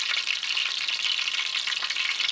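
Coconut shrimp fry in hot oil on a FireDisc cooker, a dense, steady crackling sizzle heard close up with no voices.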